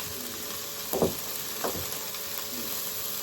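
Sausage frying in a pan inside an AGA cooker gives a steady, even sizzle throughout, with a couple of brief louder crackles or spits near the middle and no talking.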